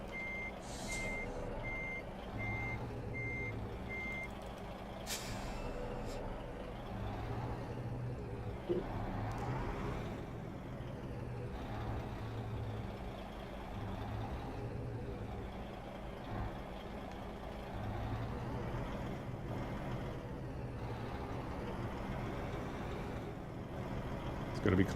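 Truck in American Truck Simulator reverses with a steady run of electronic backup beeps over a low diesel engine rumble, with someone talking at times over the game sounds.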